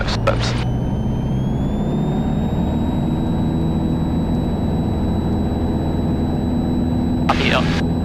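A Piper Warrior PA-28-161 light aircraft's engine at full takeoff power, a loud steady drone filling the cockpit, with a brief voice at the start and near the end over it.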